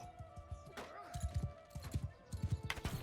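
Horse hooves clip-clopping at a gallop in the Mount and Blade II: Bannerlord video game, a close, rhythmic run of thudding beats with a brief whinny-like tone and a voice speaking over it.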